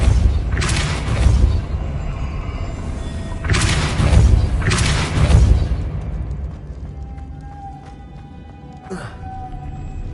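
Depulso spell cast in the Hogwarts Legacy video game: three loud, deep booming blasts in the first half, each with a heavy low rumble, followed by a quieter background with faint tonal game sounds.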